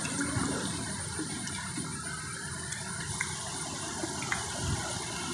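Water is poured into a spray bottle to mix with medicine for spraying jasmine plants, a steady, fairly quiet rushing fill that continues for several seconds without talk.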